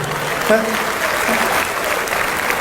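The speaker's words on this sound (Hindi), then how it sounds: "तो एक बार खुल के तालियां बजाइए" An audience applauds at a mushaira poetry gathering, a steady wash of many hands clapping with a few brief voices rising within it.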